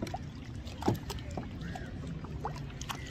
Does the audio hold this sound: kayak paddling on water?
yes